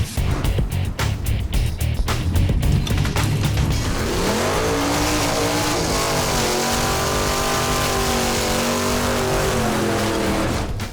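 A Monte Carlo drag car at a dragway, its engine first popping and chopping at idle, then revving hard in rising, falling sweeps, loud and close with no talk.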